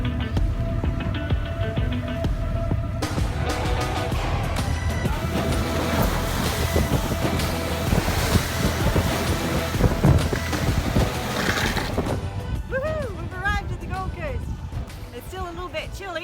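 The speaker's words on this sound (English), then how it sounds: "now you can hear the wind is blowing" Wind blows over a sailing boat near Muttonbird Island, a broad, steady roar with rushing gusts and water noise throughout, while a voice speaks over it near the start.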